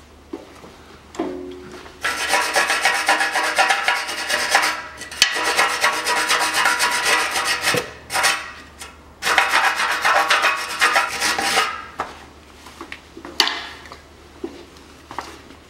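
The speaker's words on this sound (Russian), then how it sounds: "Теперь почистим и забрызгаем болт хомута, а то он здесь от времени," A rusted turbo clamp bolt on a 2006 Land Rover Discovery 3 is scrubbed clean with a brush, giving close, scratchy rasping strokes in bursts separated by short pauses.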